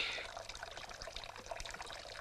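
Water is poured for drinking, a faint, close trickle of liquid that splashes and dribbles briefly.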